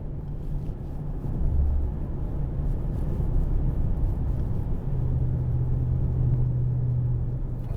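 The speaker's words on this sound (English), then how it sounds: "We're just getting the car warmed up." A 2021 Maserati Ghibli Trofeo sedan with its Ferrari-built 580 hp engine warming up, a low, steady rumbling drone with a slight rise in pitch partway through, heard alone.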